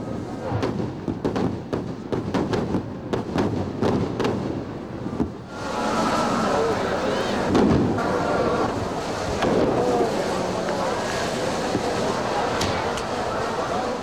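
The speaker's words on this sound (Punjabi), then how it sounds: "ਅਰਦਾਸ ਪਿੱਛੋਂ ਆਤਿਸ਼ਬਾਜ਼ੀ ਦਿਖਾਈ ਜਾਂਦੀ ਹੈ।" Fireworks burst after the Ardas prayer at the Golden Temple, Sri Harmandir Sahib: a rapid run of sharp cracks and pops early on, then a dense, continuous roar of bangs and crowd noise in the open air.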